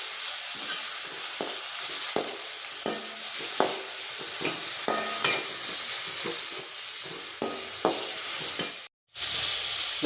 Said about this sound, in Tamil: நம்ம நறுக்கி வச்ச தக்காளி, வெங்காயம், பச்சை மிளகாய் 3 கடாயில் போட்டாச்சுங்க.